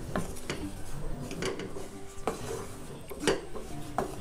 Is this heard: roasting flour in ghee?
yes